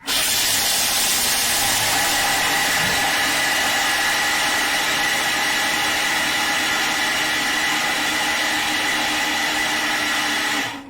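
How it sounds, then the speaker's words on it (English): A Thermomix grinding almonds into almond meal at speed 10, a loud, steady high-speed whirring roar that runs unbroken for about ten seconds and then cuts off, no talk. "How cool is making almond meal in 10 seconds in your Thermomix?"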